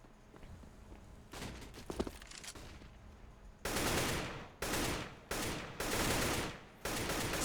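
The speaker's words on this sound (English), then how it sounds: "Blind fire at A long." Blind gunfire in a Counter-Strike pro match between Team Liquid and Ninjas in Pajamas at A long, heard as loud bursts of automatic fire in several separated volleys after quieter footsteps and shuffling.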